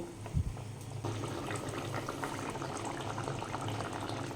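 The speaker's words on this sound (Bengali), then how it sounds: "এবারে আমি ভালো করে ফুটিয়ে নেব।" Rohu fish curry with raw mango simmers in a pot, a faint steady bubbling and burbling with a small knock near the start, quiet and continuous with no voices.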